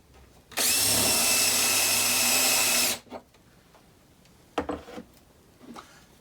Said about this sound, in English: drill into the first piece of wood just enough for the head of the screw